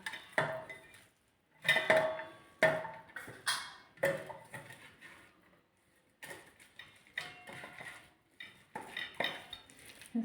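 Roasted eggplant being mashed and mixed in a dish for baingan bharta with red chili, giving repeated close clinks and scrapes of a utensil against the dish in short irregular bursts with brief pauses.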